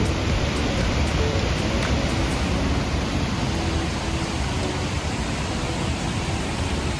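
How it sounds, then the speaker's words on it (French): Heavy rain pours steadily on a tropical forest in Laos in a dense, hissing wash, with a few faint sharp clicks in the first seconds and no voices. "Mais du coup, il pleut à verse."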